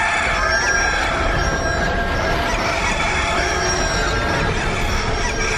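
A rooster crows in a loud neighborhood amid a dense wash of background noise, the call partly buried in the steady din.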